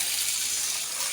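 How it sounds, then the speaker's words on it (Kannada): Water pours in a steady, close gush over soaking rice in a pot for akki sandige, one continuous stream with no voices. "ಇದು ನೀರು ಹಾಕ್ಬಿಟ್ಟು"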